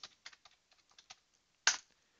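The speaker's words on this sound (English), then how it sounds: "Type in the IP address of your copier." Someone typing on a computer keyboard to enter a copier's IP address: about a dozen light, irregular keystrokes close by, ending in one louder key press, likely Enter, with no talking.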